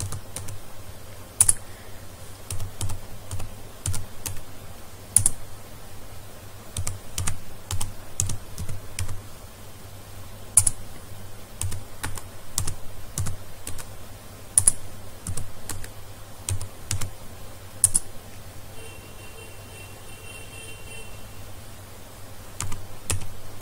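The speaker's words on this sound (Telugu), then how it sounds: "ఆ మ్యాటర్ అనేది సింపుల్ గా ఇక్కడ నేమ్స్ అనేది టైప్ చేయండి." Quiet, close typing on a computer keyboard as names are entered, with irregular key clicks and louder taps on some keys running steadily throughout.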